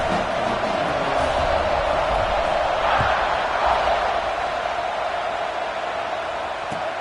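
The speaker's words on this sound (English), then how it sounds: "this crowd is buzzing after that last score" A large crowd buzzes steadily inside a football stadium after a score in a North Carolina vs Alabama game, forming a dense, continuous roar with a few faint thuds mixed in.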